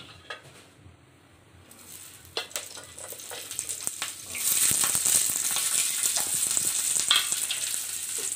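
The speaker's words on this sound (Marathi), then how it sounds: "असे भाजून घ्यायचं थोडंसं लसूण आणि मिरच्या" Quiet kitchen clatter, then a loud, steady sizzle as garlic and chillies start frying in a little oil on a hot griddle, continuing close up.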